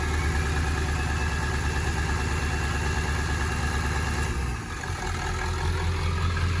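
A Ford 7.3 Powerstroke diesel engine in an OBS truck holds a steady high idle, a loud, continuous low drone with a constant rumble. It dips briefly near the end before the drone returns.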